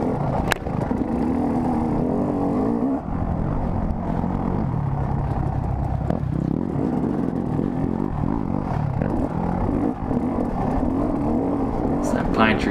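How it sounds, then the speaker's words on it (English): A dirt racer's engine revs continuously behind the rider on a wooded race course, a steady droning motor with rising and falling pitch, loud throughout, while the rider talks over it. "Someone's behind me, so they're revving at me"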